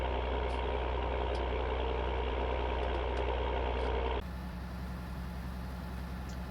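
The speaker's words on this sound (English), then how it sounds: "crawling up this hill, we would have a deeper engine note as it was working harder coming up the hill" A tractor engine in Farming Simulator 22 drones steadily, laboring with a deep note as it climbs a hill, then drops abruptly to a quieter, thinner idle-like rumble partway through.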